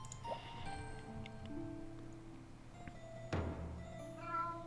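A cat in the video game Another Eden meows once, clearly and close by, over a steady musical game backdrop with a few soft ticking sounds.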